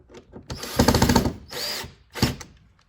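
Power drill driving a screw into a wooden window frame during a window restoration: two close whirring bursts with the motor loading as the screw bites, then a short final spin, with no talking.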